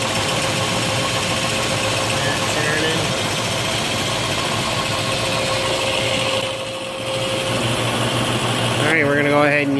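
An electric motor spins steadily, belt-driving the hydraulic pump of a knuckleboom crane, producing a constant mechanical hum with a short dip in level and a brief squeak near the end; a voice talks over it.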